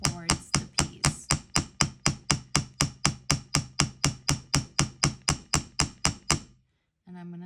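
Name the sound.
hammer tapping metal for lightning bolt paddle charm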